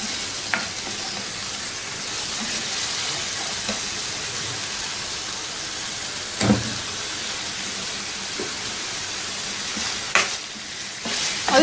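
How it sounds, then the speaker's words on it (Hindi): Chicken fries in a pot with masala paste, giving a loud, steady hiss of sizzling oil, broken by a few louder bursts as a spoon stirs and scrapes the pot. "अब इसमें चिकन शामिल करेंगे।"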